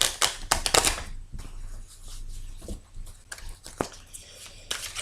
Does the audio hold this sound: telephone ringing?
no